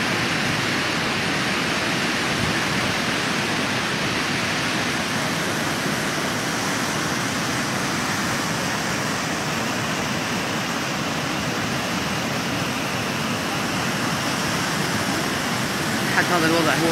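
Strong floodwaters rushing through Sheikh Saad in Wasit province, Iraq, a dense, constant roar of churning water that stays loud and unbroken throughout with no clear gaps.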